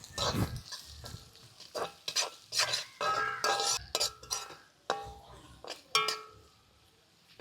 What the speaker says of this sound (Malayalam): ഇനി നമുക്ക് അരിഞ്ഞു വെച്ചേക്കുന്ന സവാളയും പച്ചമുളകും കൂടി ഇട്ട് കൊടുക്കാം എന്നിട്ട് നമുക്കൊന്ന് വഴറ്റി കൊടുക്കാം